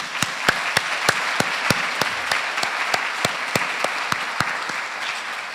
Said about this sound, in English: can we please have a round of applause for our graduates